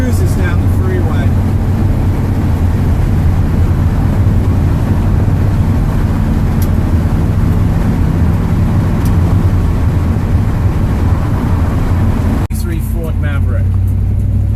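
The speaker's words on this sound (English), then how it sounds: "It's got highway gear, so it just cruises down the freeway." A 1973 Ford Maverick restomod with a fuel-injected 302 V8 and overdrive highway gearing cruises on the freeway, its steady low engine drone and road rumble continuous and loud, with someone talking over it inside the car.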